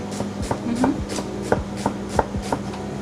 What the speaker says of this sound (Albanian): Presim qepin kubik